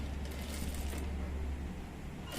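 Sewing machine stitching the side seams of a child's petticoat at half-inch allowance, a steady close mechanical whir running continuously, easing off near the end.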